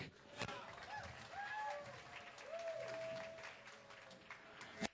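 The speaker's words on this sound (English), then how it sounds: "Let's have a big round of applause for Mark." Applause rises from the audience at a 2011 candidate forum in Ventura, California, a soft, continuous patter of many hands heard from a distance, with a few whistle-like tones drifting over it and sharp claps near the end.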